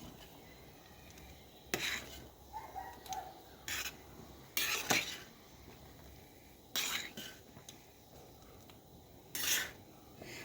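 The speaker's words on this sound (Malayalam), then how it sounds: "അപ്പം പിടി നന്നായി തിളച്ചിട്ടുണ്ട്. ഒന്ന് ഇളക്കി കൊടുക്കാം കേട്ടോ." Pidi rice dumplings boiled in a pot are stirred slowly, giving several short scraping, rasping strokes against the pot at irregular intervals over a quiet background.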